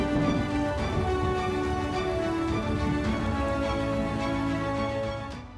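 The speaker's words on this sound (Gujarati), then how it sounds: "શહેરના અનેક વિસ્તારોમાં ધોધમાર વરસાદ પડી રહ્યો છે" Heavy monsoon rain pours down over Mumbai as a dense, steady wash of sound that holds for several seconds before easing off at the very end.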